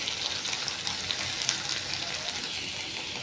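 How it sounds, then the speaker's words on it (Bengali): Okra frying in hot oil in a wok, a steady close sizzle with crackling spits running throughout with no talk. "ঢ্যাঁড়সটা একটু ভাজা ভাজা হয়ে গেলে আমি তুলে নেব।"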